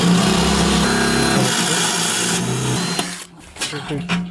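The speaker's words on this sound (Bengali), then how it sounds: "একটি ড্রিল দিয়ে লকটাকে ভাঙার" A power drill grinds steadily against the lock of a safe, a continuous loud mechanical whir that cuts out partway, followed by a few scattered knocks and scrapes of metal.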